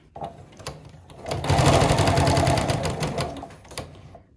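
Sewing machine stitching a shirt placket: a few short starts of needle clatter, then a fast, steady run of rhythmic stitching for about two seconds that slows and stops, loud and close with no talk.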